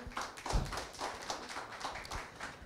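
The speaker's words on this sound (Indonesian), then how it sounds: "Boleh tepuk tangan dong buat siang hari ini" A small audience at a talk-show style event claps, a sparse, loose run of individual claps and taps in uneven bursts rather than a full ovation.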